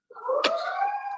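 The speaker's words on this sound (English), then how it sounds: "as the sirens go by" A short police siren wail rises and holds, with a brief click partway through, heard alone from some distance as it passes outside.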